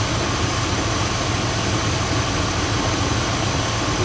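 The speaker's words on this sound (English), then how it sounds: "turn on the vehicle, confirm that the air conditioning is turned on" A Dodge 1500 truck engine idles with the air conditioning switched on, a steady, close, even drone with constant low rumble and a faint high whine from the AC system, running alone without talk.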